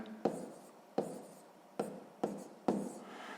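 A pen taps and scratches on paper in five short strokes at a steady pace, each a soft tick followed by a brief scrape, close and quiet, while numbers are written out by hand for a math exercise.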